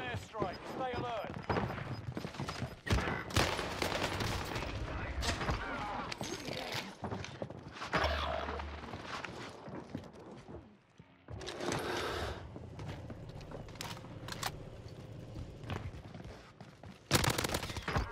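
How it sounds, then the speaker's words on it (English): Gunfire in the Warzone video game, bursts of automatic shots and scattered single cracks spread through a busy battle mix, with game voice lines and a player talking over much of it. "My teammates are literally just shooting me"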